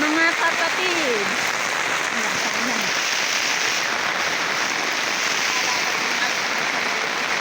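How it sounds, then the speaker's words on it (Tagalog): Heavy rain pours down in a constant loud roar, with a voice briefly heard at the start over the downpour. "Ayan ang ulan. Lakas ng ulan. Inabot kami ng ulan."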